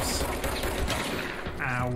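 Rapid bursts of gunfire from a weapon in the video game Control, a dense rattling stream of shots under a voice talking, steady and moderately loud throughout.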